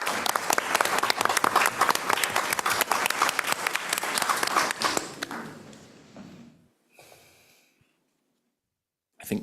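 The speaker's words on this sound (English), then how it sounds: "invite everyone to applaud our teachers" An audience at a county board of education meeting gives teachers a long burst of dense applause, loud and steady for about six seconds before tapering into scattered claps and quiet.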